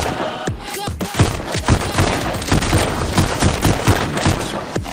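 Rapid bursts of gunfire crack repeatedly throughout, dense and loud, with scattered single shots mixed into steady automatic fire from the VR shooting game Pistol Whip.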